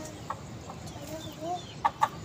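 A few short, faint clucks from a chicken against a quiet background, two closer clucks near the end.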